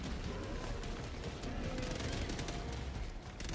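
SMG fire in the video game Helldivers 2: dense, loud, continuous rattling bursts with booming impacts packed tightly together, filling the whole stretch with hardly a pause.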